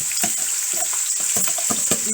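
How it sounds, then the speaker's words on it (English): Washed, sliced onions hit hot oil in a stew pot with a steady, close sizzle, while a spoon scrapes and stirs in quick repeated strokes over it. "So I'm going to add my onions that had already been washed and sliced."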